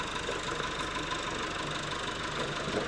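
A tractor engine idles and knocks steadily nearby while radiators on scaffolding poles balance on its front, a continuous rumbling drone with no talk.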